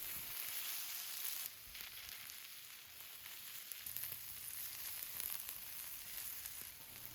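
Sweet peppers sizzling in oil on a Blackstone flat-top griddle alongside hash browns: a steady, bright hiss of frying that runs continuously at moderate level, with no talking.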